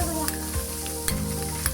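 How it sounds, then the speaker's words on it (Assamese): Onions and crab pieces fry in a pan for crab chutney. A steady close sizzle runs throughout, broken by a few sharp stirring scrapes of the utensil. No one speaks. "আপুনি পিঁয়াজখিনিও ভাজি ল'ব আৰু ৰঙচুৱা পৰালৈকে ভাজিব"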